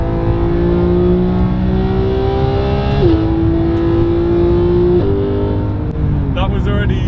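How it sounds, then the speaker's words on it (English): A 2017 Porsche 991.2 GT3 with PDK in Sport mode accelerates hard, the engine note climbing steadily with quick upshifts breaking the rising whine, loud and close from inside the cabin. "I guess it would be rude, PDK Sport, not to give it a little bit of an acceleration now and get warmed up"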